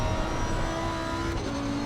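A Lamborghini race car in Assetto Corsa Competizione drones steadily at high revs, its engine note holding a smooth whine and dipping slightly near the end, loud and alone.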